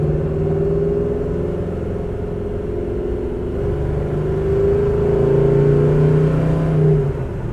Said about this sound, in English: which to me the engine's all the music that you need on this car